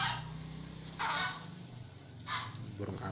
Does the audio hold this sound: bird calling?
yes